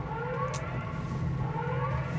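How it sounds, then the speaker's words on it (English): An alarm siren sounds in the video game Pacific Drive, a sustained droning wail with steady tones over a low engine-like hum, continuous and fairly loud. "That is the alarm."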